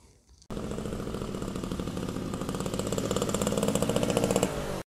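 A motorbike engine starts abruptly after a quiet moment and runs with a rapid, rattling chug that grows slightly louder and more intense before cutting off.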